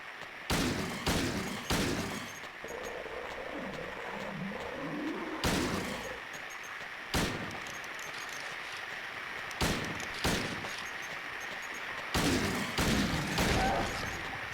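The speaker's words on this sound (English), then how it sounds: "We're using handgun." Handgun shots fired in Silent Hill 2 ring out as sharp, loud, isolated bangs at irregular intervals, roughly eight of them, over a dark droning game ambience with brief stretches of low creature-like noise.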